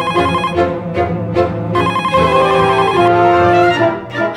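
A telephone rings loudly with a repeating electronic melodic ringtone, several bursts in a row up close, alone without talk.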